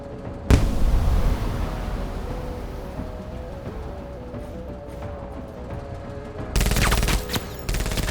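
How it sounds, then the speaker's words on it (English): A grenade explosion and gunfire in a tactical video game: a sharp blast opens, followed by a sustained rumbling roar of battle under a steady tone, then a loud burst of rapid gunfire near the end, with no voices. "Grenade out!"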